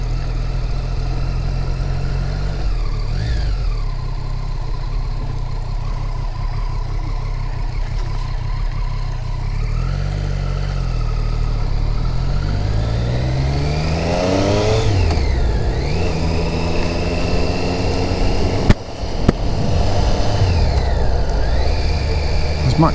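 A Triumph Street Triple motorcycle ridden along winding country roads, its engine droning loud and close with repeated rises and drops in pitch as the rider accelerates and shifts, plus a brief dropout near the end.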